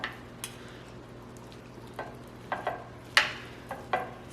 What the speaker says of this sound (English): So we're just mixing it in really well so everyone gets even amount of cream cheese, avocados, cucumbers,